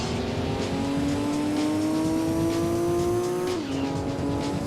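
A nearly 400-horsepower car accelerates hard in the Gran Turismo 2 racing game, engine whine climbing steadily in pitch through one long gear, then dropping sharply at an upshift and climbing again, loud and continuous with no talk.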